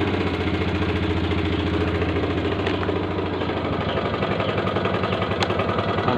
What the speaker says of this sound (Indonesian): Suara mesinnya kasar, perlu diservis.